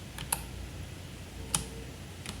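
A few sparse key clicks from a computer keyboard, typed alone at close range with quiet pauses between the taps.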